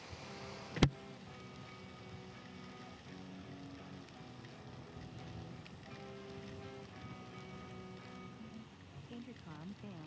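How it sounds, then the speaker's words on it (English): Rain patters steadily on a coat and bag during a walk outdoors, a soft continuous wash of drops with one sharp click early on. "This is nice though. The pitter patter."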